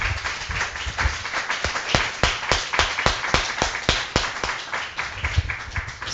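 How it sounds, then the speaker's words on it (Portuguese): A church congregation applauding during a worship service, dense rhythmic clapping from many people, close and loud, continuing steadily without speech. "Vamos dar uma salva de palmas bem bonita para o nosso Deus."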